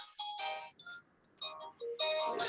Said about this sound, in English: I ignore my phone.